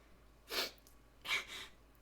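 A woman sniffles twice in quick succession, soft and close. Each one is a short, breathy intake, and no one speaks.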